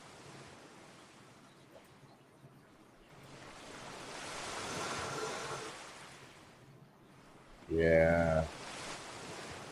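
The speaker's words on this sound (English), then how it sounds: "oh, here it is. The ocean waves." Recorded ocean waves play back as a soft, rushing wash that swells and recedes over several seconds, fairly faint, with a short spoken word briefly over it near the end.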